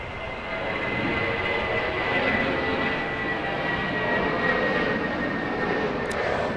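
A JetBlue jet airliner takes off at Los Angeles International Airport, a steady broad engine roar with a faint whine, heard from a moderate distance and sustained throughout.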